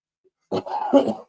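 A man coughs twice into a close studio microphone on a talk show, two short harsh bursts about half a second apart in an otherwise silent room.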